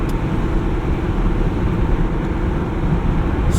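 A manual 2017 Jeep Wrangler Unlimited cruising at low revs, around 1500 RPM at 50 mph, heard from inside as a steady, loud low engine drone mixed with road rumble.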